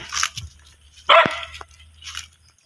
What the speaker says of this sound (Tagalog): Ang ingay di dogi, ang ingay